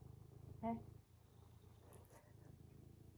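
Pet cat purring up close in a mountain home, a low steady rhythmic rumble that runs throughout, with a brief voice-like call near the start and faint small sounds later.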